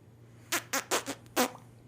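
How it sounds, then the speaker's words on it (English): A run of five short, squeaky fart blasts comes in quick succession, each a brief tonal burst, loud and close against a quiet background. "it's a British fart because they're so uptight"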